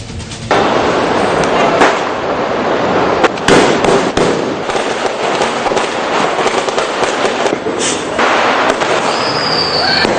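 Fireworks and firecrackers burst continuously at New Year celebrations in Colombo, a loud, dense crackle of rapid pops and bangs running for about ten seconds with no pauses.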